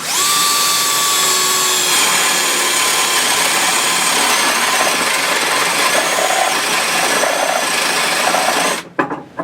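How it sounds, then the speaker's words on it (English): A power drill grinds steadily through wood for several seconds, loud and close, with a whining tone, then cuts out abruptly near the end. "So I'm going to use the big drill here on this line"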